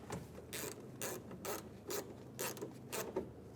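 A ratchet tightens the window glass clamp bolts inside the door of a 2009-2014 Ford F-150, giving a steady run of quick, evenly spaced clicking strokes close up and fairly quiet, with no talk.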